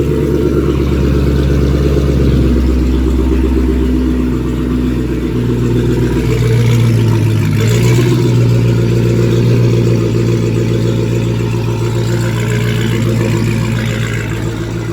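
A wide-body car's engine roars loudly at high revs on a dyno, a sustained droning run with a brief dip partway through.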